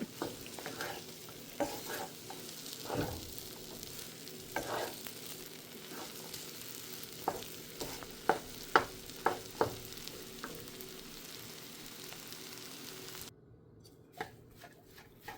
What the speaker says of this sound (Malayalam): അങ്ങനെ ഞാനിവിടെ ഇളക്കി ഇളക്കി എടുത്തിട്ടുണ്ട്